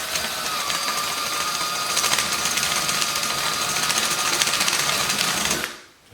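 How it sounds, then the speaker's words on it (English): A drill bores holes through a plastic guitar stand, giving a loud continuous whirring grind close by that runs steadily for several seconds before cutting off abruptly. "Alright, going through this plastic is going to be pretty easy,"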